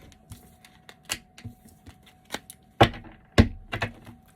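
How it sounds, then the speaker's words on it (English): A tarot deck being cut by hand: a quick series of sharp, close card taps and papery slaps, irregular in rhythm, louder strikes near the end, with no voices. "I'm going to cut the deck."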